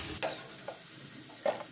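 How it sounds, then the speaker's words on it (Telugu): Bitter gourd pieces frying in oil in a pan, a quiet, low sizzle broken by a few short scraping stirs, with no talking. "కాకరకాయ ముక్కలు అన్నీ ఇలా వేయించుకోవాలి గోల్డెన్ బ్రౌన్ వచ్చేంత వరకు."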